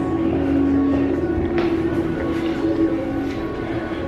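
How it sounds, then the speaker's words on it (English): A C-Train light rail train rumbles past close by, a steady loud rolling roar with metallic wheel squeal and faint clicks, alone without talk. "Hopefully the C-Train comes through."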